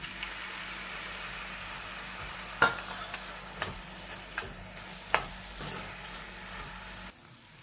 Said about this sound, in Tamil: இப்போ கட் பண்ணி வச்சிருக்கிற தக்காளியை போட்டு ஃப்ரை பண்ணலாம்